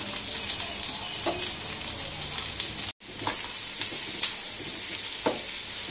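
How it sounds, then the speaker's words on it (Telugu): Onions fry in a pan for a goat blood fry, giving a steady, close crackling sizzle. Occasional stirring scrapes and spatters break in, with a brief cut near the middle. "ఉల్లిపాయ కొద్దిగా దోరగా ఏగితే చాలు మరీ ఎర్రగా ఏగిపోవాలనే లేదు"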